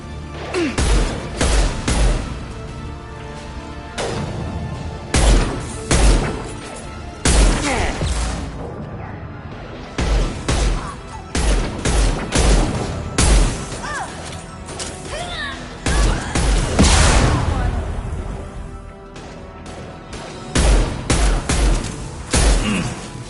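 Mass Effect 2 combat: repeated loud gunshots and sniper fire in bursts, with heavy impacts and booms and brief spoken lines mixed in.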